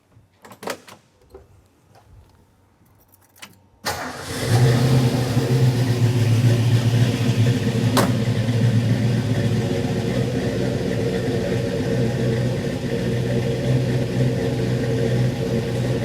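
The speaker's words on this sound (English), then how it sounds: "the intoxicating sound of a mechanical lifter HiPo 289" A 1967 Ford Mustang K-code HiPo 289 V8 cranks and fires up around four seconds in, then settles into a loud, steady, rumbling idle with mechanical lifter chatter, after some quiet shuffling.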